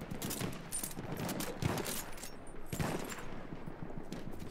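Gunfire fills the Lupkow Pass battlefield in Battlefield 1: dense, overlapping shots and bursts crackle continuously, some near and sharp, others more distant, with no pauses in the fighting.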